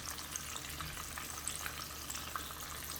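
Chicken pieces for a spicy sandwich fry in a pan on medium-low heat, giving a soft continuous sizzle with faint crackles and pops, steady and fairly quiet.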